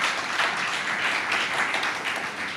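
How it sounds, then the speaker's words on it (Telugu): A church congregation claps together during a pastor's sermon, a dense, sustained wash of many hands close and loud, holding steady for a few seconds without voices. "చప్పట్లు కొట్టి దేవుని మహిమపరచుకుందాం."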